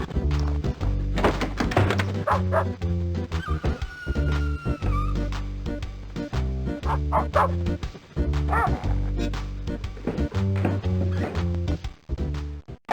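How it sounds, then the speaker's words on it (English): Yapping puppies bark in the video game Normality, repeated sharp yips and bow-wows over a rhythmic musical backing, with thumps and small whimpers scattered throughout the long stretch, no voice heard. "Did we even need, do we think, all those yapping puppies outside?"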